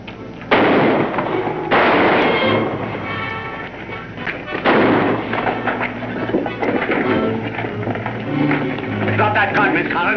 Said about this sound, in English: Supposed to be a big gunfight.